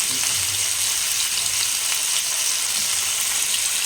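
Masala fish frying in a pan at a street food stall: a loud, dense, steady sizzle close up that runs the whole time, with a faint low hum underneath and no talk.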